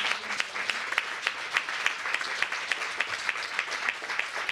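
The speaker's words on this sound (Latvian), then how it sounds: "aplausi." Audience at a panel discussion breaks into sustained applause, a steady crowd of clapping hands filling the room, moderately loud with no speech over it.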